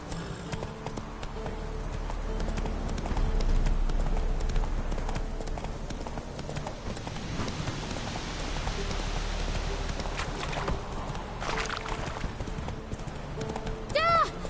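In The Witcher video game, a horse's hooves clip-clop at a gallop, steady and rhythmic and close up, with occasional voices over the hoofbeats.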